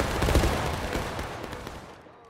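A battalion of reenactors fires a musket volley on command at an EU Gettysburg reenactment: one loud, dense crackling blast that rolls away and fades over about two seconds.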